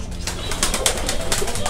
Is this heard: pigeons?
yes